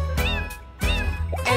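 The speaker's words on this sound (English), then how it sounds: "There was a farmer who had a cat, and Bingo was her name, oh." Two bright meows from a cat in a children's song about a farmer's cat, each rising and falling over a steady musical backing, the second followed by a short higher call.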